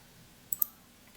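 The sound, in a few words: computer keyboard keys pressed (Windows + R shortcut)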